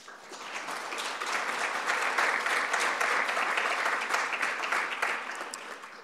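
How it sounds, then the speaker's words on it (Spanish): Audience applause at a public forum on migration, a full crowd clapping that swells in over the first second, holds loud and steady, then eases slightly toward the end, with no voices over it. "Un aplauso, por favor."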